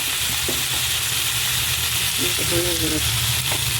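Vegetables sautéing in a pan with ginger, turmeric and cumin give a steady, close frying sizzle throughout, with a few faint scraping stirs and a brief murmur of talk partway through.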